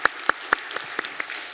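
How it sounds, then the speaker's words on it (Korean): A church congregation at a Sunday worship service claps briefly, with several distinct, evenly spaced claps that soon thin into scattered lighter ones. "기억해 주시고 격려해 주시고 주시길 바라는 마음으로 우리 박수 한번 하도록 하겠습니다"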